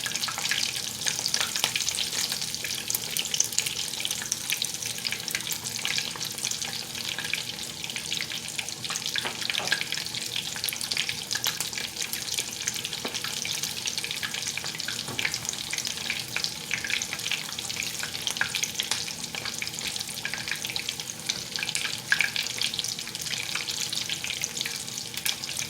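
Stuffed chicken legs sauté in a cast iron skillet, giving a steady, even sizzle with crackling pops that carries on unbroken for the whole stretch, with no talking.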